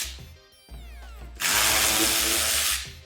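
A power drill working bumper bolts loose from underneath a BMW F30, loud whirring bursts that build to a sustained close, high, noisy spin.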